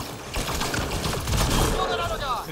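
Defensive turrets in Mass Effect Andromeda fire rapid, dense bursts of gunfire, a continuous loud crackle of shots layered over game noise.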